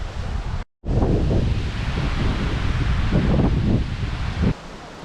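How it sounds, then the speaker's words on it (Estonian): Strong gusts of wind buffet the microphone beside a river rapid in the woods, a loud continuous roar and rustle with a brief dropout near the start, and the roar eases slightly at the end. "Tuul paneb siin puhanguid küll kuni 18 meetrit sekundis."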